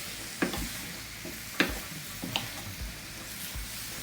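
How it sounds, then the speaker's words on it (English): Curry chicken fries in oil in a pan, a steady soft sizzle with occasional faint clicks and stirring scrapes, close by and with no talking. "So you leave this to fry off."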